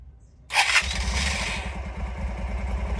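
A 2006 Honda Varadero 125 motorcycle engine fires up after a brief starter whir and settles straight into a steady, close, pulsing idle.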